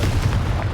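A loud, rumbling burst from the Confringo blasting spell in Hogwarts Legacy fills the short moment with deep booming noise.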